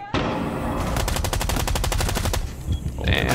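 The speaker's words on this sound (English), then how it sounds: "holy shit, this LMG recoil. I can't even control it." Rapid bursts of light machine gun fire from a video game, a dense rattling stream of shots that runs almost the whole time, loud and close, and stutters near the end.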